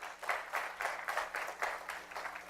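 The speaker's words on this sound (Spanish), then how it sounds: "Dale un fuerte aplauso al Señor." A church congregation claps in praise to the Lord, a moderate, steady patter of many hands that swells in regular pulses for a couple of seconds with no voices over it.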